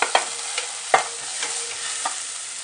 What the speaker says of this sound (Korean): 재료들은 타지 않게 해주시면서 볶으셔야 합니다